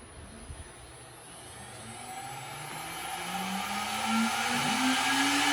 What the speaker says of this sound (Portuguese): aqui eu desliguei o spindle, eu primeiro vou ligar ele de novo.